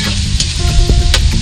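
Food is sautéed in a pan, sizzling loudly and continuously while being stirred, with occasional scraping clinks from the utensil.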